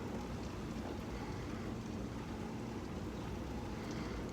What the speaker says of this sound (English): Well, here you have it, people. Beautiful rain.